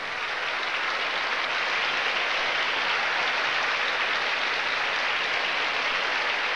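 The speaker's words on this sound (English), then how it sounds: "I think your cheering section rivals Mexico's" A pageant audience at the 1988 Miss Universe final in Taipei applauds and cheers Miss USA, a dense, steady roar of clapping that stays loud from start to finish.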